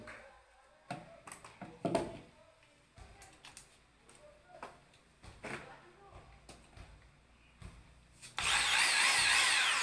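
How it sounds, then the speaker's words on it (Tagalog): A newly bought electric drill being tested begins with a string of clicks and knocks from handling, then the motor switches on near the end with a loud, steady whirring buzz. "So yung next ay electric drill."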